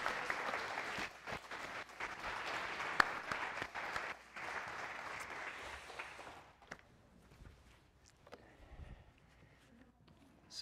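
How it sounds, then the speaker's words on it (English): A congregation at a Día de los Muertos service applauds for the children, a full dense round of clapping that fades out after about six seconds, leaving quiet room sound with scattered movement. "And let's have applause for our kids and Melinda."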